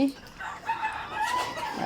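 An Egyptian Fayoumi rooster crows once in a brief, strained call, fairly close and alone with no talk.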